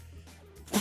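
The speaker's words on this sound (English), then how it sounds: "Oh, the dab sneeze." A person gives a single sharp, loud sneeze near the end of the moment, bursting out over a quiet indoor room background.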